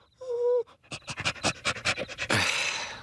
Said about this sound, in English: Oh, my God, a police dog.